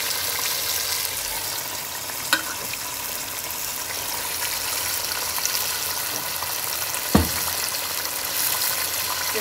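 Chicken going into a fried spice paste with the oil risen to the top, giving a close, constant bright sizzle with a couple of sharp clinks from a utensil.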